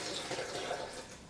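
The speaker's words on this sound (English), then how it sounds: "I'm gonna add another half a cup of water." About half a cup of water is poured into a blender holding thick red chili sauce for cheese enchiladas. The pour is a steady, soft splashing rush, fairly quiet, with no talking.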